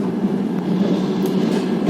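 A local passenger train travels through rural Belarus, giving a steady, loud, low rumble of wheels and carriage noise that holds even throughout the short stretch.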